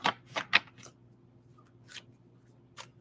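Tarot cards are shuffled several times in quick riffling bursts, crisp and close, the first three rapid, then two more spaced apart after a pause, over a faint steady hum.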